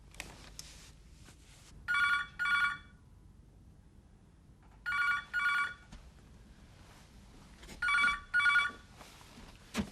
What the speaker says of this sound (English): Phone, Reg.